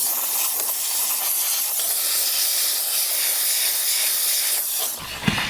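A steady, close spray hisses continuously during car interior detailing as water is misted onto the air vent blades, ending with a brief knock.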